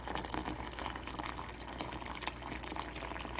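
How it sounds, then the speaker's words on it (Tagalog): Water splashes and gurgles steadily as it is poured into a pot of chicken for tinola, a continuous broadband rush lasting a few seconds with no voices. "Lagyan na itong tubig."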